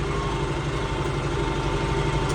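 Farm tractor engine running rough on a clogged fuel line, a steady close mechanical drone with a broad, noisy texture and low throbbing pulses, continuous and unbroken throughout.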